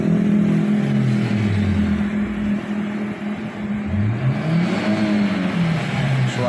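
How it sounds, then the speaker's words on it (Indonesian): Automatic Daihatsu Sirion engine revving after Blackcore tuning, with harsh, racy revs climbing and falling in steady waves over a continuous loud idle, close to the car. "Suara mesinnya sangar seperti suara mesin mobil racing"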